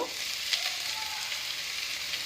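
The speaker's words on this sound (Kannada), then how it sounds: "ಈಗ ಇದೊಂದು ಸ್ವಲ್ಪ ರೋಸ್ಟ್ ಆಗ್ತಾಯಿದೆ." Ingredients for a vegetable soup roast quietly in a pan, a soft, steady, even sizzle that continues without a break.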